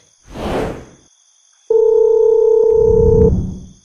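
A phone call being placed in an animated Indonesian drama: a soft swipe or whoosh, then a loud steady electronic tone that holds for about a second and a half before a rustle ends it.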